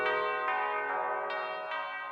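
Church bells ring in a steady sequence of strikes whose rich, layered overtones sustain and overlap, marking a celebratory occasion; fairly loud, with no talking.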